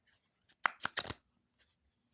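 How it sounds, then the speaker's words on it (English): Cards from a tarot deck on US Games card stock being riffle shuffled, a quick burst of crisp fluttering clicks followed by a faint tap, close and quiet, with no talking. "I am a riffle shuffler when I can."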